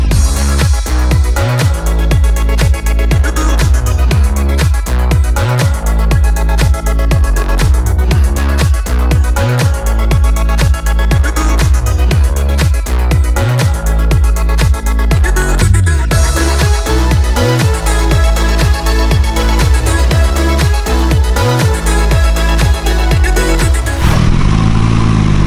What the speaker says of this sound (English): And now we'll go for a test ride in the GT3 RS with IPE full exhaust.